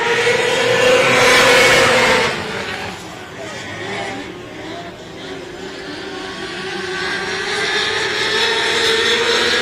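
600 non-wing micro race cars racing in a heat race at Texana Raceway Park, engines roaring loudly past and droning on around the track, with a louder surge early and a sustained whining engine tone throughout.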